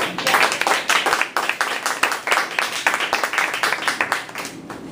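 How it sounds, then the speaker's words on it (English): A small audience claps in bursts of quick, uneven hand claps, close and fairly loud, swelling and fading in waves without talk over it. "Do you guys want to clap?"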